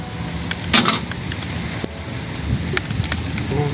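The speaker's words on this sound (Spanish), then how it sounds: "Se largó la lluvia." Rain starting to fall during an outdoor build of a garbage-fuelled car system, a steady hiss of drops across the whole stretch with a few sharper patters and taps, fairly close and with no one talking.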